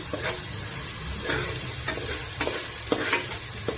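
Ingredients for a bone soup fry gently in a pan over low heat, a continuous soft sizzle broken by regular scraping stirs of a ladle, heard close with no voices.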